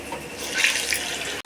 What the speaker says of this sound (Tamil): எண்ணெய் காஞ்சிருச்சுங்க. இப்போ நம்ம வடை போட்டுக்கலாம்.